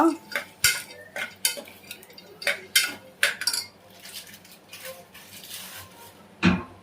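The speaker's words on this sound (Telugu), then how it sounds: "మిల్ మేకర్స్ యాడ్ చేశాను. మిక్స్ చేసుకోవాలి మంచిగా." A spoon stirs soy meal maker chunks into a panasakaya (jackfruit seed) pulav, giving repeated metal clinks and scrapes against the pot, spaced irregularly with a final sharp knock, and no talking.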